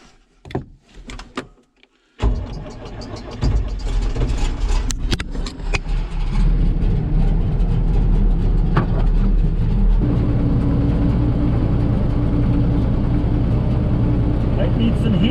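A tractor engine cranks briefly in cold weather, then catches and settles into a steady, loud, rumbling idle that continues to the end.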